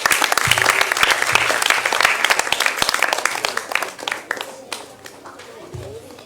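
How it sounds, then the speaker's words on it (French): An audience applauds after a vocal group's performance, a loud, dense burst of clapping that gradually thins out and fades, with a voice speaking over it in places. "S'il vous plaît, acclamez"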